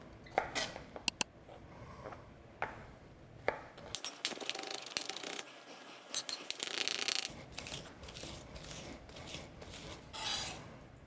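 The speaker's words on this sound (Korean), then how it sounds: "한국에서 정말 유용하게 쓰이는 세 가지 향채소 마늘, 대파, 그리고 생강을 우선은 조금 다져주도록 하겠습니다." Garlic, green onion and ginger being minced with a knife on a cutting board, giving irregular close chopping taps and scraping bursts throughout, with no talking.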